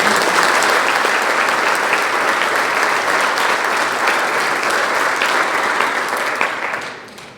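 Audience applause at a high school spring sports awards ceremony, a dense, steady ovation from a large crowd that holds evenly for about six seconds before tapering off at the end.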